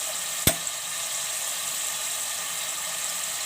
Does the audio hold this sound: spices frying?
yes